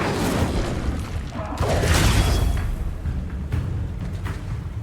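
The Incendio fire spell is cast in Hogwarts Legacy: a broad whooshing roar of flame with a heavy low rumble that swells near the middle and then eases off, alone and fairly loud.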